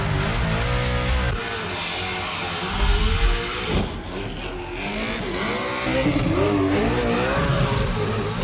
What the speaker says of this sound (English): This is the world famous Hoonicorn. Is it featured in Gymkhana 7.